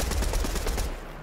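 Rapid automatic gunfire from the Fortnite battle royale game crackles loudly for most of a second as a dense burst, then cuts off.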